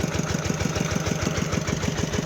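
A tractor fitted with rubber wheels, working a field, chugs steadily with a loud, close, rhythmic engine knock pulsing several times a second throughout.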